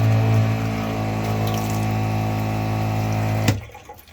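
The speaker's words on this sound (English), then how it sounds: "water pump." A small electric water pump on a Wolverine runs with a steady mechanical hum, holding constant for about three and a half seconds before cutting off abruptly and leaving a quiet tail.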